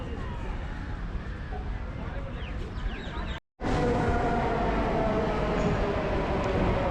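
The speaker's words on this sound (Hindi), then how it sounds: "तो अभी हम आ चुके हैं दिल्ली के मेट्रो स्टेशन पर।" A Delhi metro train at a station, steady rumble of rail cars and wheels with a high tone, broken by a brief cut midway before the train noise resumes, fuller and louder.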